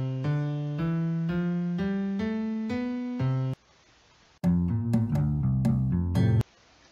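A computer-generated musical scale played note by note through the JFugue 5 Java music library, a steady synthesized ascending run, then a short pause followed by a second, denser passage of notes and chords, loud and alone.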